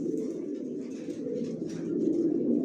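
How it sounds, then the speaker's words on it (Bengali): Homing racing pigeons of a Janssen line coo softly in a loft, making a continuous low, throaty burble that swells slightly toward the end, close by with no talk. "আমার লফটে সব লংয়ের কবুতর পালি"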